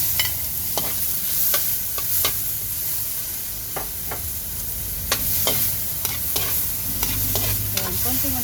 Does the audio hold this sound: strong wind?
no